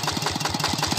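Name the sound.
Kubota 11 HP diesel engine idling, driving Ebara water pump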